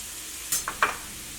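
A spoon scrapes and clinks through cabbage and tomato with salt in a pan over a soft sizzle, three short quick strokes close by.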